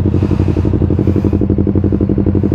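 A Yamaha R3 motorcycle engine with an Akrapovic full exhaust system is pushed hard at high revs with a loud, steady throbbing drone close by.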